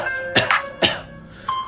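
Two short coughs ring out close to the mic over a faint musical tone, followed by a brief pause.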